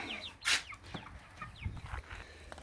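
Chickens clucking around a chicken tractor of meat birds on a farm, a loud burst of squawking near the start followed by scattered softer clucks and chirps close by.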